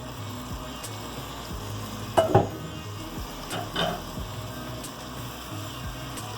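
Curry liquid of curry, geera and saffron powder simmers and sizzles steadily in a pot, with a couple of louder stirring scrapes partway through.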